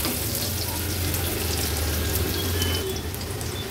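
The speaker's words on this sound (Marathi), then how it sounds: "लसूण थोडासा परतून झाला का कांदा घालते फोडणीला।" Onion and garlic frying in hot oil for a tempering, with a steady, close sizzle running unbroken throughout and no voices.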